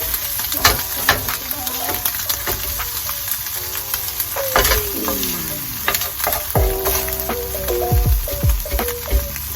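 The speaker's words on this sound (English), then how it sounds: "Bacon's getting a little burnt." Bacon fries in canola oil in a non-stick pan, a close, continuous crackling sizzle with rapid pops, and several scraping utensil strokes against the pan cut through.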